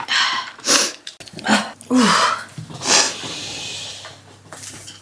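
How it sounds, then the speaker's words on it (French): Several sharp bursts, sneezes and snorts close to the microphone, separated by short pauses and quieter breathy sounds, ending in a low, faint background hum. "Quand on éternue, après on a le nez qui coule"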